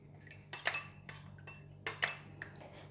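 A utensil stirs a sauce of oyster sauce, pepper and garlic oil in a bowl, giving bright clinks and taps against the dish in two short bursts, close by, over a low hum.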